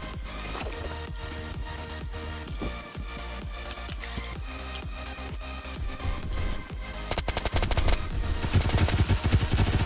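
Rapid gunfire from the online shooter game Phantom Forces, dense bursts of automatic fire hammering nonstop, growing louder and faster toward the end, no talk.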